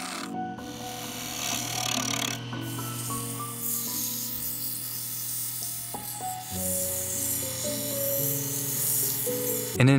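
Repeated rasping strokes of sandpaper rubbing on wood, steady and close, with music playing in the background.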